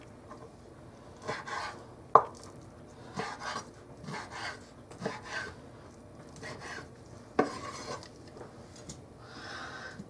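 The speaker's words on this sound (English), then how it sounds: "cut it up like so. And just bite-sized chunks." A knife cuts pork into bite-sized chunks for a canned pork stew, giving a series of soft, close chopping and scraping strokes at an irregular pace, with a sharper knock around the two-second mark and again near the end.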